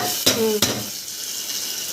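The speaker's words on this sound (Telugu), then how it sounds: "పప్పు తాలింపు పెడితే సౌండ్ ఉంటుంది" A loud sizzle bursts out twice in quick succession as tempering for lentils hits a hot pan, followed by a softer, steady frying hiss with some stirring clatter.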